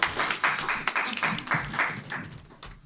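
A church congregation applauding the Lord, steady fairly faint clapping from a crowd that rises and fades in short waves.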